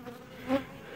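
Honeybees buzzing around a hive during normal traffic or robbing, a continuous drone with one bee passing close and loud midway.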